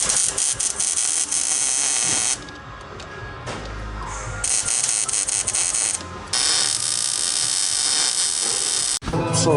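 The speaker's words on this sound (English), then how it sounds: "let's see if I can weld that on there in this tight space" A welder joins a custom shift linkage onto a 1939 Standard transmission in a tight space. Bursts of harsh buzzing, hissing arc run several seconds each. They are separated by short quieter pauses, close by and loud.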